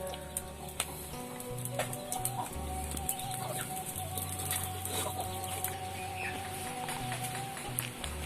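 A chicken clucks intermittently at an outdoor rural cooking spot, with short repeated calls over a steady background of other noise.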